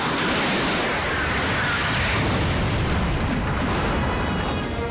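Missile strike explosion in a science fiction film: a loud, dense, rumbling blast fills the whole stretch, roaring continuously with crackling debris and slowly thinning at the end.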